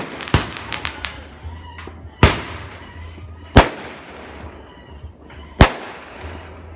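Christmas fireworks go off outdoors in a series of sharp, loud bangs spaced a second or two apart, mixed with smaller crackling pops and a low background rumble.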